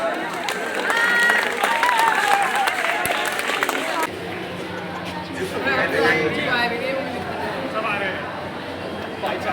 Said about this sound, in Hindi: बच्चों, तालियां।